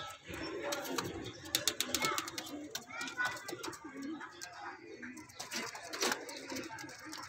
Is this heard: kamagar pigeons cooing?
yes